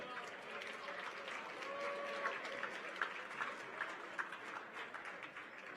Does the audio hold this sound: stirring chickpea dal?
no